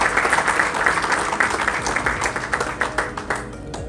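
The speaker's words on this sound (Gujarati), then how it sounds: "એક વખત ડોક્ટર નીરવભાઈ ભટ્ટ માટે જોરદાર તાળીઓ થઈ જાય." Audience applause at a business networking festival, a loud continuous burst of many hands clapping that fills the hall and thins slightly toward the end.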